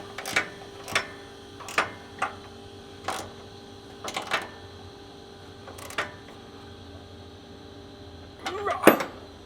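Ratchet clicks from tightening rock slider bolts on a Toyota Tundra truck frame, with short sharp bursts spaced every second or so over a low hum and a denser clatter near the end.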